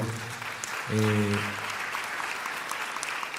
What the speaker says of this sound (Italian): credo un applauso collettivo sia doveroso